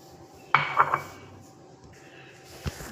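A utensil clatters against a bowl while mixing egg paratha batter with onion, tomato, red chilli, turmeric and cumin powder, a few sharp close knocks and scrapes followed by quieter stirring and one last tap.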